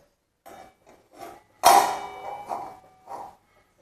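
A sharp metallic clang as a pot is set down into a wok, followed by lighter knocks and scrapes of metal on metal.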